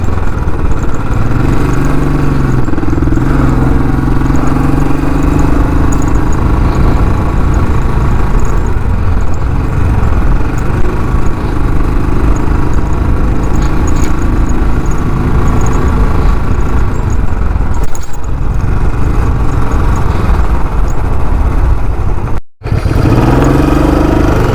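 A Royal Enfield 350 BS6 motorcycle idles close by with a loud, steady thumping engine note. The sound is unbroken apart from a momentary dropout near the end.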